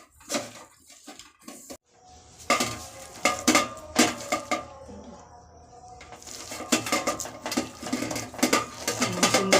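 Semolina, sesame seeds and milk powder mixed in a bowl for a sooji rasapuli sweet, with irregular clinks and scrapes of a spoon against the dish coming in bursts, some quieter stretches between.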